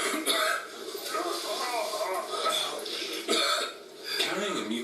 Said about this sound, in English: Carrying a mucus cough and cold around all day can be exhausting.